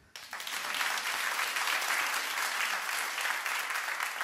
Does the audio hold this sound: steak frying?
no